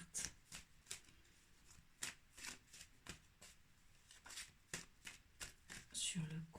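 Oracle cards shuffled by hand in a quiet room, a steady run of soft, crisp riffling flicks throughout, with a brief rustle near the end.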